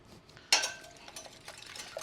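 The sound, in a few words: mixing vanilla into brownie batter in a bowl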